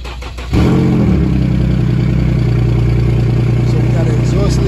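A Infiniti G37x with an exhaust leak starts up and settles into a loud, steady running drone close by, with no one speaking over it.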